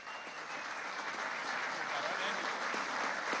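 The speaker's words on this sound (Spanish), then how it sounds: "un aplauso a Fernando" A crowd at a Venezuelan political campaign event applauds Fernando Soto Rojas, producing a thick, continuous wash of clapping that holds at an even, fairly loud level throughout.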